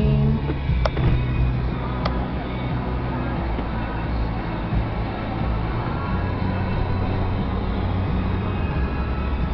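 A car drives along a road with a steady engine and tyre rumble heard from inside, continuous and fairly loud, with a couple of faint clicks early on.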